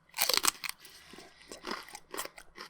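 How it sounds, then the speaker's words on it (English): Celery being chewed in loud, close, wet crunches that come in uneven bursts of bites and chewing, with no talk. "today, I'm eating some celery"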